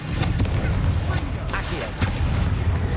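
A Confringo fire spell blasts in a Hogwarts Legacy combat fight, sounding as a string of booming, crackling bursts over a dense continuous rumble, loud and close throughout.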